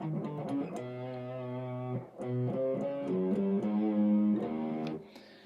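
Distorted electric guitar plays a lick, with quick descending notes repeated in two phrases and a held note at the end, loud and close, played alone without talking.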